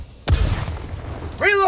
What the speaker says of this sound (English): Sending in an eagle! Boom! Target down!